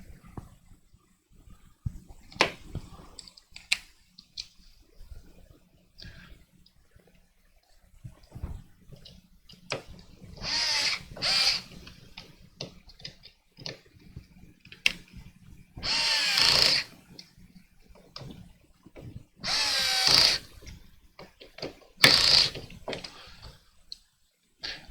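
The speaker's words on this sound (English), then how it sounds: "I did do a short video on this Dremel, just a little review" A Dremel rotary power tool whirs in several short high-pitched bursts of a second or so, separated by quieter handling clatter and small knocks, and no one speaks.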